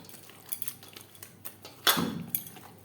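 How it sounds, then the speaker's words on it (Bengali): Chicken being mixed by hand with salt, turmeric, sour yogurt and spices in a bowl, with soft intermittent clinks and scrapes of the dish, close and fairly quiet, no talking. "লবণ, হলুদ, টক দই ও মশলার সব উপকরণ দিয়ে চিকেন বেশ ভালো করে মেখে নেব।"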